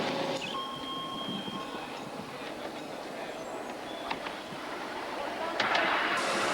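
A small four-wheel battery electric tram on 7¼-inch gauge track rumbles along steadily with faint rail clatter and a brief squeal near the end, while people chat faintly in the background.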